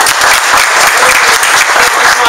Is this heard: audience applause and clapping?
yes